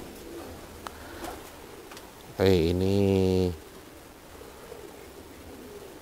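A homing pigeon gives a single throaty coo lasting about a second, close and clear above faint room noise, with a brief spoken word nearby.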